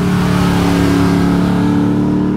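A tuned Mazda RX7 rotary engine runs close by, loud and steady with a buzzing, harmonic-rich idle that holds throughout without pauses.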